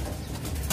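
A female pigeon and other loft pigeons sitting on eggs give low, soft cooing that rolls on steadily for a moment, close and unaccompanied by voices.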